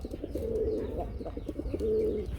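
Gola pigeons cooing close by, two soft throaty rolling coos with a pause between them, fairly quiet over a low background hum.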